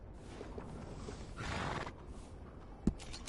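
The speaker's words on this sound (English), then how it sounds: "That's a nice horse." A horse in the video game Red Dead Redemption gives a faint neigh, a brief whinny swelling midway over low ambient game noise, followed by a sharp thump near the end.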